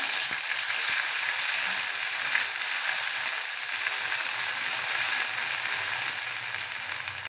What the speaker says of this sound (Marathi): कांदा लसून अद्रक वाटून तो टाकू आपण आता तो चांगला भाजून घेऊ